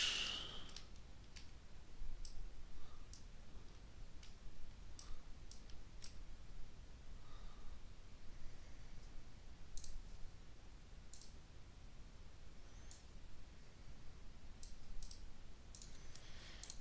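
Light, scattered clicks of typing on a computer keyboard during a Battletech game, irregular taps and small bursts over a quiet background hiss, with no one talking.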